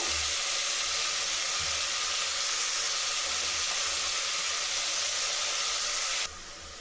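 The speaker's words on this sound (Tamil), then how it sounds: "கொஞ்சம் வதங்கட்டும். இந்த வெங்காயம் வந்து 100 கிராம் இருக்குது." Onions sautéing in a pan for vegetable biryani, about 100 grams of them, giving a steady broadband sizzle and hiss with soft low thumps. The sizzle holds evenly for most of the time, then drops a little in level near the end.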